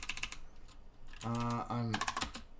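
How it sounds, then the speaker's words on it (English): Typing on a mechanical keyboard gives bursts of rapid, clacky keystrokes at the start and end, with a person speaking briefly in between. "Let's say I'm typing, and I want to turn on the arrow keys."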